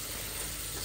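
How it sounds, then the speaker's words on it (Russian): Veal liver fries in a pan with a steady, dense sizzle that fills the short moment without pause or voices. "а здесь у нас печеночка жарится"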